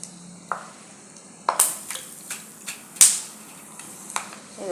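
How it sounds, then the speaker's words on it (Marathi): Peanuts roasting in oil on a slotted spoon, a soft steady sizzle punctuated by sharp metallic taps and clinks of the spoon against the pan at irregular intervals, close and fairly quiet. "असे शेंगदाणे व्यवस्थित भाजून घ्यायचे"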